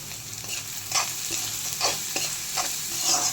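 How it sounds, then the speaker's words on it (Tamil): Three large onions sautéing in a pan for beef pepper gravy, sizzling steadily with a spoon stirring through them in a few scraping strokes, close and moderately quiet. "ஒரு 3 பெரிய வெங்காயம் நல்லா கோல்டன் ஃப்ரை வர வரைக்கும் வதக்குங்க"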